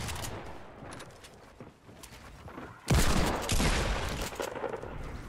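Desert Eagle pistol fire in the video game Fortnite, a loud burst of shots erupting about halfway through after quieter game ambience, then continued gunfire and action noise.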